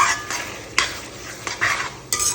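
A spoon stirs soya chunk curry masala around a pan in quick, scraping strokes with light sizzling underneath, several sharper clinks of metal on the pan standing out, close and fairly loud with no voices.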